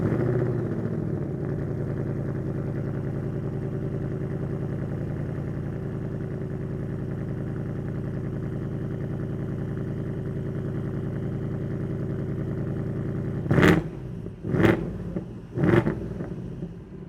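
A 2026 Ford Mustang GT with a 5.0 V8, manual gearbox and Performance Pack idles with a steady low rumble from inside the car, then gives three short, sharp bursts near the end.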